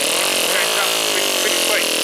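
Small two-cylinder four-stroke overhead cam engine in an RC car revving hard, a loud buzzing whine that rises and falls in pitch like a chainsaw, with a voice talking over it.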